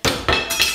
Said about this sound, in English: that was the sound of me dropping a very large knife on my toe